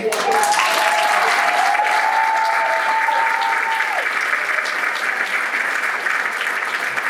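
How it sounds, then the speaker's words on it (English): An awards gala audience applauds steadily for several seconds, a dense, continuous patter of clapping that stays loud from start to finish. "I hope you all will join me in a huge applause for this one."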